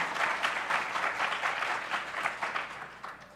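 Audience applause at a TwitchCon 2019 panel, a steady dense round of clapping from a crowd that stays loud and even throughout with no talk over it.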